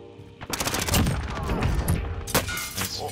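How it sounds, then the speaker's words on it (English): Rapid gunfire bursts from a Call of Duty: Warzone battle royale match, loud and dense, with repeated shots and overlapping volleys throughout, no talk. "Somebody shot me from behind, I think."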